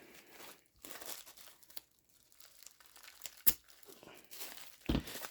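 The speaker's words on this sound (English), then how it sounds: "ball of paper in there and you're going to wrap it around side to side" Sheet of paper crinkling and crumpling as it is wrapped side to side around a paper ball for a homemade poi, soft close rustles in bursts with a sharp crackle near the middle and another near the end.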